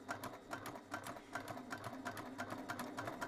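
A sewing machine runs at moderate speed while stitching a curved seam on a bag at a 1 cm seam allowance, giving a rapid, even mechanical chatter of stitches, close but quiet, with no speech.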